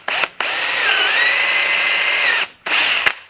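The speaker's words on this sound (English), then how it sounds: "I've got a 3/4 inch dowel, and I'm going to drill a hole," A power drill bores a hole into a 3/4 inch wooden dowel, running in one loud, steady whine for about two seconds between short bursts at start and finish, close and alone.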